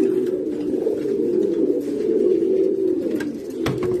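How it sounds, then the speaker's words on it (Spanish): A pigeon coos steadily at close range, its low rolling murmur continuous, with a few faint chirps from other birds and a brief sharp knock near the end. "Esta paloma mosquea"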